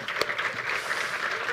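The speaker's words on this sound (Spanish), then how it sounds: "Un fuerte aplauso." Audience applause after a conference talk on network services, a short burst of steady clapping of moderate loudness with a faint voice mixed in.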